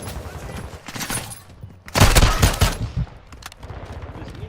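Bursts of automatic gunfire in a Modern Warfare shooter game, loud and dense, with a heavy sustained volley in the middle, scattered rapid shots around it and a voice briefly underneath.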